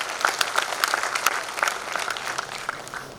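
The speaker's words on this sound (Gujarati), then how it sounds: "તાળીઓનો ગડગડાટ એટલે તમને તમારા હાથનો અવાજ લાગતો હશે" An audience at a speech claps in a sustained burst of applause, dense and steady before gradually thinning out, heard from within the hall.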